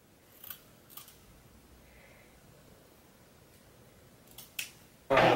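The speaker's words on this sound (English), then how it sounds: "Alright, so now it's time to cut over here." A curly lace wig being trimmed with scissors: a few sharp snips spaced apart against near silence, close, ending in a louder rustle.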